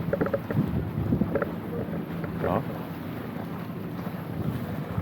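Outboard boat ride off Masbate heading to Buntod Reef, a steady low engine rumble under heavy wind buffeting the microphone, with faint voices in the background.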